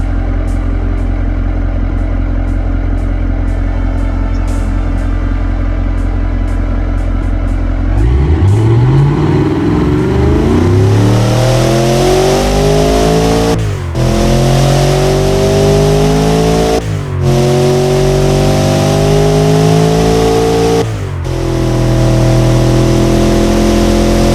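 A turbocharged V8 sport engine in the game Automation idles with a low, steady burble, then revs hard in several rising sweeps, dropping back between pulls, loud and close with no voices.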